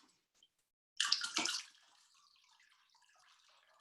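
Fresh water pours from a bottle to rinse feet after a foot soak, a short splashing gush followed by a soft, faint trickle and drips, close by in a quiet room.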